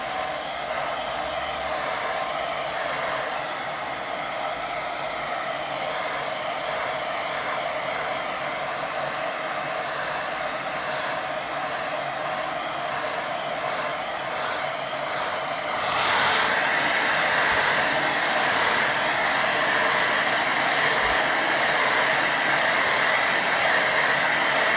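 A hair dryer blasts steadily while drying watercolour paint on paper, a loud continuous whooshing hum that jumps to a higher, stronger setting partway through and carries on with no talking.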